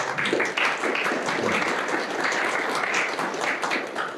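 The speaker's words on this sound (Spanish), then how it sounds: "Un aplauso para Carla" A hall audience claps together in a steady, dense round of applause at a women's forum, holding at an even loudness for a few seconds with no talk over it.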